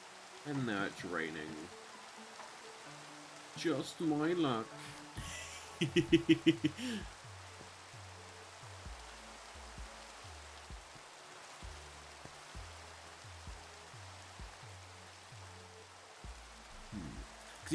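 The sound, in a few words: rain falling in Minecraft, video game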